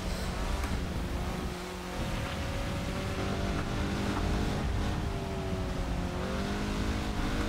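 A Spec Miata MK5 cup race car engine in a sim racing game, droning steadily with modest revving and a faint hint of tire noise, alone without talk.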